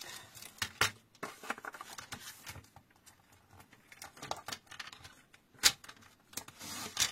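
Scissors snip through paper and card while making a Christmas card with paper and cutting dies, a run of short crisp cuts and rustles at close range, quiet, with no talking.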